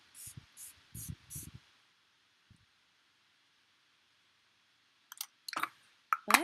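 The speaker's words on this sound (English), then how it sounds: "And I feel like my makeup looks better after I spray it." Makeup setting spray mists onto a face in several quick, short bursts, then a few more spritzes and faint clicks later, close and quiet with no talking.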